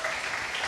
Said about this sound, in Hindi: इसके लिए तो ताली बजनी चाहिए।